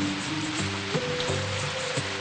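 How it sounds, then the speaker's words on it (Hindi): Steady rain hisses on a surface, a constant wash of drops with a faint tonal hum running underneath. "इतनी जोर से बारिश हो रही है"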